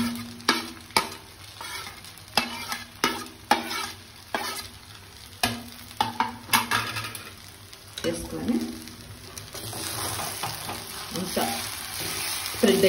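Spicy Andhra-style egg noodles with scrambled egg are tossed in a hot pan. A spatula strikes the pan in a run of sharp, rhythmic scrapes and clanks over a steady sizzle, and the frying hiss grows louder toward the end.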